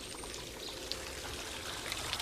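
Water pours steadily through a water clock under construction, a continuous soft trickling stream with faint drips, quiet and even throughout, with no voices.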